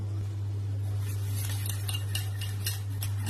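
Besan gram flour whisked into buttermilk in a bowl, quick rhythmic clinking and scraping of a utensil against the vessel, close and moderate, over a steady low electrical hum.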